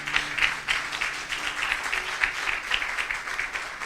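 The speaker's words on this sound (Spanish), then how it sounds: "démosle un aplauso a Jesús." Congregation applause during a church service, steady dense clapping from a gathered crowd that stays even and moderately soft throughout, with no talk over it.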